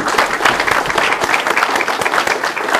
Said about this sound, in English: can we please have a round of applause for the hosts here who brought us here and let us use this?